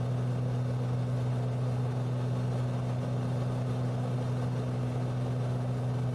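Steady, droning piston airplane engine heard from inside the cockpit of a general aviation plane in flight, a constant loud hum with a strong low tone and no pauses, with no talking.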